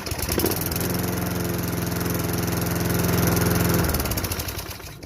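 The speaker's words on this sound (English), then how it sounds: "So we got it on the first pull." A Craftsman mower with a Tecumseh 5.5 engine runs steadily at close range after starting on the first pull, a loud, even, buzzing drone that holds for several seconds before easing off near the end.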